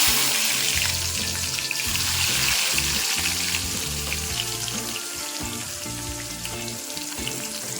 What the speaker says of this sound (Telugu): ఆయిల్ అయితే బాగా కాగింది, కొద్దిగా ఆవాలు వేస్తున్నా, కొద్దిగా జీలకర్ర వేస్తున్నా, కట్ చేసి పెట్టుకున్న ఆనియన్స్ అయితే వేసేస్తుంది